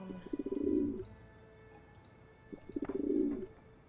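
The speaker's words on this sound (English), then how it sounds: "Pigeon!" Two bursts of pigeon cooing in a Nancy Drew video game, each a fluttering run of low throaty coos, fairly close and clear against a quiet ambient background with no talk.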